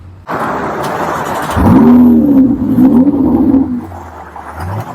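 A Ferrari 488 Spider engine cranks and fires up, then settles into a loud, steady idle with a brief rise in revs near the end.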